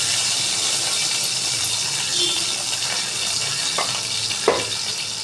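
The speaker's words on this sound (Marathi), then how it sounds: "जिरे तडतडल्यावर" Cumin seeds sizzle and crackle steadily in hot oil in a pan, with a few sharper pops and a small clink near the end.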